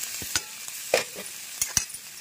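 Vegetables and green chillies stir-fry with garlic over a high flame, a steady sizzle broken by several sharp scrapes and clacks of a spatula against the pan, with nobody talking.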